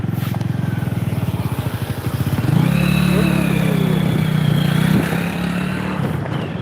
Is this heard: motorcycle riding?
yes